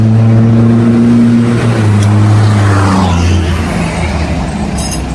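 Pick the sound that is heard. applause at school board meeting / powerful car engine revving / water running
powerful car engine revving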